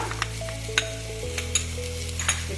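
Three tablespoons of home-ground sambar powder sautéed in a pan for Tamil-style sambar, giving a steady low sizzle with a few sharp spatula taps and scrapes, no talking.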